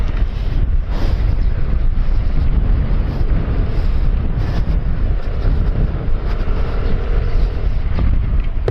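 Strong gusty wind buffets a microphone outdoors on a hot, breezy day in rural Bulacan, a loud rumbling roar with irregular thumps and no voices.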